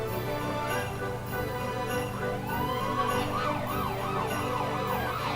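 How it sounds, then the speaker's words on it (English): Sirens from antique fire trucks in a holiday parade wail and whoop in overlapping rising and falling sweeps, a continuous mid-distance howl over a steady crowd and engine background. "Oh, I can hear them coming, Trey. Can you hear it? Yeah, more sirens."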